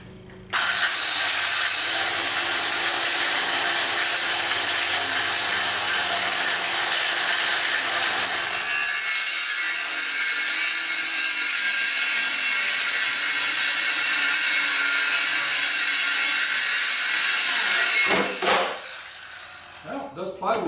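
A Ryobi circular saw whines loudly as it cuts through plywood, a sustained high buzzing that runs for many seconds, then the blade spins down and a few clunks follow as it stops.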